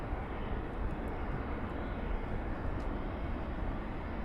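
Fixed-wing airplane moving near Luton Airport on a windy morning with a crosswind, a steady broadband engine roar that holds at constant loudness throughout without any talk.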